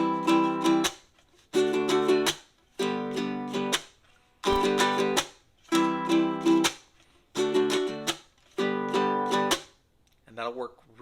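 Baritone ukulele strummed in a down, up, chuck, up, chuck pattern for a play-along: bright chords in a steady repeating rhythm, each group cut by short percussive muted chucks, close and clear with no talking.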